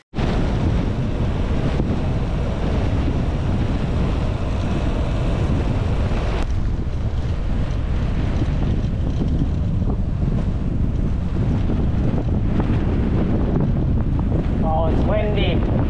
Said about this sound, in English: There you can just see and feel how windy it is.